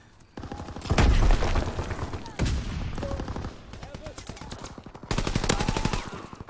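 Call of Duty gunfire during a match: repeated bursts of rapid automatic shots, loud and close, separated by short lulls, with distant shooting and game effects in between.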